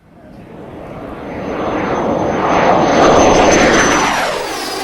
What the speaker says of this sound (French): On voit ici un jet Provost provenant des stocks de l'armée de l'air canadienne qui a donc été racheté